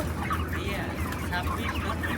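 Broiler chickens about 26 days old on a solar-powered controlled-shed farm cluck and murmur continuously at close range over a low steady hum.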